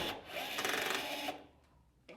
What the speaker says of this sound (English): we used our trusty Milwaukee rivet gun